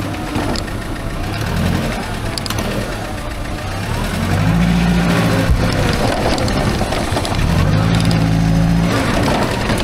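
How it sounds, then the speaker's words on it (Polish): A Hyster forklift engine runs during a test drive after repair, a loud, continuous rumbling drone that rises slightly as it pulls, with faint talk underneath. "Silnik też fajnie chodzi."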